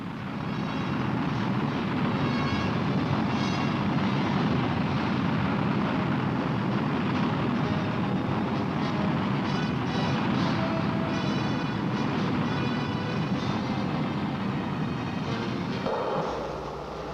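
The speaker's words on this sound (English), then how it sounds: "Here, Pershing's 2 rocket motors are about to be tested in a captive firing." Pershing missile rocket motor, first stage, fired in a captive static test as if in flight: a loud, sustained broadband roar held steady for about sixteen seconds, then cutting off abruptly near the end.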